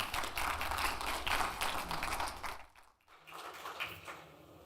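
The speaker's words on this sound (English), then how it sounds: "Thanks for the applause" Church audience applauding after a talk on the age of the earth, a full wash of many hands clapping that fades briefly near the end and then picks up again more lightly.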